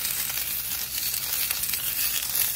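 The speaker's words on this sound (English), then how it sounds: "When this starts to sizzle," Bok choy and fresh garlic sizzle steadily in a hot pan, a dense continuous hiss with crackling texture, close and even throughout, no voices.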